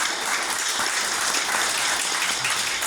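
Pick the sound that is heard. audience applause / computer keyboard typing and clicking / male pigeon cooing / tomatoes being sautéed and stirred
audience applause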